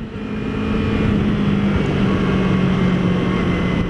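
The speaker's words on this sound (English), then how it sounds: "Engine braking, it's pretty good." A 2015 Yamaha R3 300cc motorcycle engine braking while riding at about 40, giving a steady droning engine hum mixed with rushing wind, loud and close throughout with no talk.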